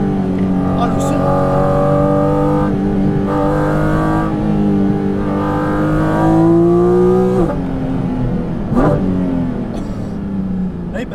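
Porsche Cayman GT4 RS flat-six engine revving hard and pulling up through the gears, a loud, continuous rising and falling howl with shifts, heard from inside the car.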